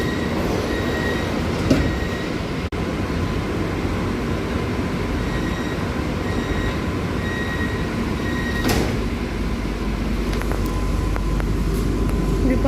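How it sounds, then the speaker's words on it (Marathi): A fast Mumbai AC local train rushes past nearby with a loud, steady rumble and rattle of wheels on rails that fills the whole stretch, with only faint talk in the background. "हे बघा आणि समोर अजून एक AC लोकल ट्रेन फास्ट."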